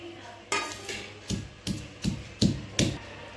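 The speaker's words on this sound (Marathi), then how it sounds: "त्यानंतर मिरची आणि लसूण कुटून घ्यायचे" Roasted chili and garlic pounded in a mortar, with six steady, evenly spaced thuds close by, each a sharp knock with a short ring.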